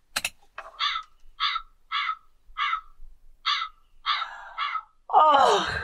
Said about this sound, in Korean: 이 까마귀 소리 정말